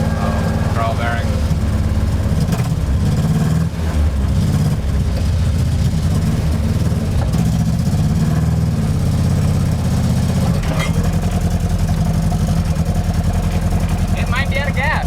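A drift car's engine runs steadily at its first startup, a loud, continuous low rumble throughout with people talking over it.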